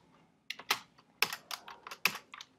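Close keystrokes on a computer keyboard while writing Swift code, a quick irregular burst of crisp clicks and taps after a brief quiet start.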